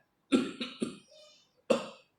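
A few short, close coughs: three quick bursts in a row, then a pause and one more cough.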